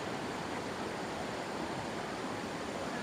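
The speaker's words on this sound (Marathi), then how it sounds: "माझ्या पाठीमागा असा निसर्गाने नटलेला सुंदर असा धबधबा" A waterfall in a humid forest gives a steady, dense roar of falling water, constant and even throughout, with no voices over it.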